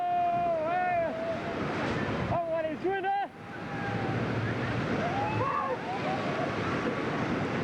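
Waterfall spray and rushing water at Iguazu Falls, heard from a boat on the river, roaring steadily with wind buffeting the microphone while people shout and cheer over it.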